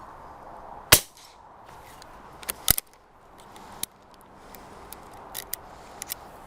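A 9mm garden gun firing outdoors, one sharp close crack followed by a second shot a couple of seconds later, with faint scattered clicks and a quiet ambient background and no recoil thump.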